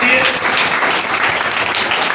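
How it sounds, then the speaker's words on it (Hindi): A church congregation claps together to thank the Lord, a dense, steady burst of applause filling the space at close range with no voice over it. "ताली बजा के प्रभु को धन्यवाद करिए।"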